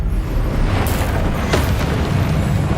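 Confringo blast spell explosions in Hogwarts Legacy: two booming bursts close together, each a sharp crack that swells into a broad rumble over a steady low roar of background game noise.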